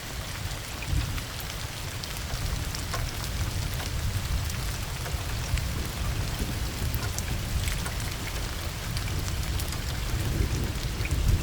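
Heavy rain pours steadily near the Konkan coast at nightfall, a dense, continuous hiss and patter of drops on surfaces with no pauses and no voices.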